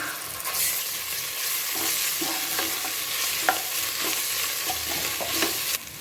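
Ginger garlic paste fries and sizzles steadily in a pan with green chillies and garlic, with occasional soft scrapes of a stirring spoon against the metal; no voices.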